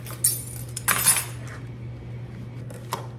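A meatloaf ingredient is cut into little pieces, giving scattered light clicks and scraping clinks of a utensil against a dish over a low steady hum, with no talk.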